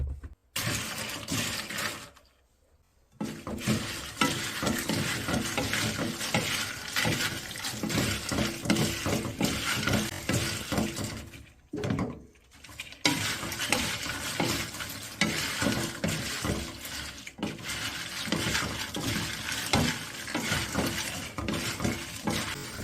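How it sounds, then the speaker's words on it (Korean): Whole dried hot chili peppers fry in cooking oil over low heat, a dense continuous sizzle with utensil scraping and clinks, broken by two brief pauses. "불은 약하게 해서 튀겨줍니다."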